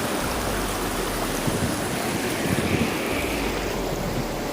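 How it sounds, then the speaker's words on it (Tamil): Floodwater from Cyclone Fengal rushes forcefully as a dense, continuous roar with some wind noise, steady and loud throughout and without any voices. "தண்ணி ஃபோர்ஸாக தள்ளுதுங்க செம்ம ஃபோர்ஸ்"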